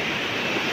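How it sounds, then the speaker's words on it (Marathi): Foaming waves churn on a flooded stream after heavy rain, a steady, broad rushing roar close by, uninterrupted and without voices. "फेसाळणाऱ्या लाटा मित्रांनो."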